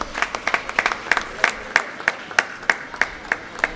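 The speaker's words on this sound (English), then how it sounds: "Give her a big round of applause" A crowd claps in a steady, rhythmic beat at a chess tournament prize distribution, with sharp evenly spaced claps close by that carry on without a break.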